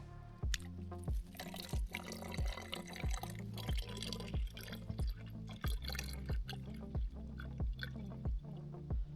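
Water drips steadily from the tap of a dirty water bag through a water filter at a hammock camp in the mountains, with close, regular plinks landing about twice per second over a soft liquid trickle.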